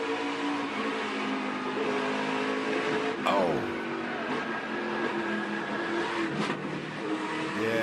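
NASCAR Truck Series trucks racing after a crash, engines revving and droning past at speed, with one sharp burst of noise midway and a brief exclamation over the roar.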